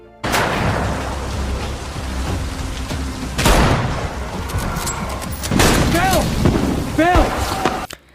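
Gunfire and chaos in The Last of Us TV series: loud bursts of shots and booms over a dense rumbling roar, with shouting voices between the blasts, ending abruptly.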